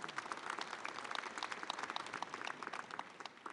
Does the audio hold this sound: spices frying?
no